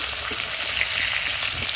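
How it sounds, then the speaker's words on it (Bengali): Loud, steady sizzling of fish frying in hot oil, a continuous crackling hiss close at hand, with no talking. "আর এদিকে দেখো মাছটা ভাজা হয়ে গেছে"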